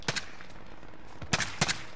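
Gunfire in the battle royale video game Call of Duty: Warzone, a few short, fairly distant bursts of two quick shots each, spaced apart over a steady noisy background.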